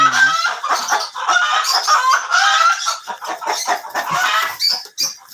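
Colombian Light Brahma chickens and a rooster at a Bangladeshi farm cluck and squawk loudly close by, a busy flurry of overlapping raspy calls with short bursts and pauses, no talking.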